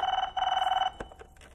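A telephone rings in two clear bursts of trilling bell tone, fairly close, followed by a few faint clicks and handling sounds after the ringing stops.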